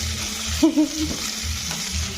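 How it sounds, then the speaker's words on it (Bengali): Steady oil sizzle of fish frying crisp in a wok, with a few brief stirring scrapes and clinks near the start. "এই কড়াইয়ের মধ্যেই এইগুলোকে ভাঙবো এই রাখো তাহলে একদম কড়কড়ে হয়ে ভাজা হয়ে যাবে"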